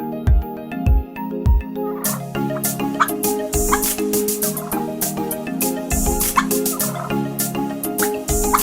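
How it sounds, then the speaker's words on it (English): A female turkey on the loose on a farm, gobbling in rapid rattling bursts that grow denser after a few low thumps at the start, loud and close. "Female turkey on the loose."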